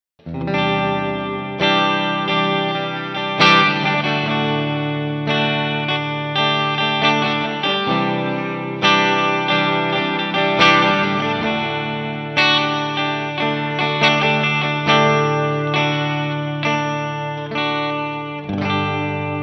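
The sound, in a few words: guitar through JHS Octave Reverb pedal, reverb only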